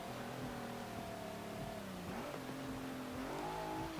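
A 2017 Ford F-150 Raptor's engine in Forza Motorsport 7 drones steadily and loudly, its pitch holding, dipping and then climbing again as the truck revs under acceleration.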